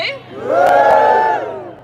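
A crowd at a London march for clean water lets out a loud, sustained whoop that swells and fades over about two seconds, with scattered shouts mixed in.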